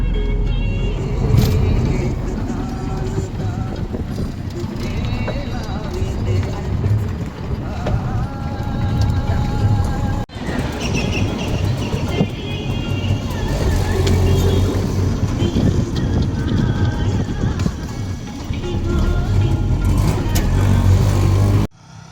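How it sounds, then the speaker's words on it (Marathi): Auto rickshaw ride in Maharashtra, a continuous loud engine rumble and road noise from close inside the vehicle, steady for the whole stretch with a brief dip midway. "आम्ही रिक्षा घेऊन आलो होतो ही रिक्षा राजू रिक्षावाले"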